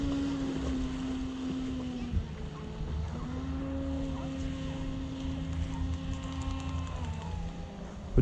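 A Navicraft Rebel 8S boat's outboard motor runs steadily and somewhat strained, a continuous low drone with a humming engine tone heard from a short distance over faint water and wind, with a brief knock near the end.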